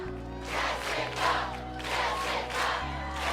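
A large arena crowd at an American Ninja Warrior qualifying run roars and cheers steadily, loud and sustained with surging waves of shouting under a low music bed.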